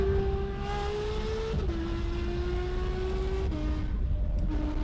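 A Porsche 911 GT3 RS driven extremely fast, its loud, steady engine drone holding close and continuous, with the pitch stepping down twice as it shifts gears.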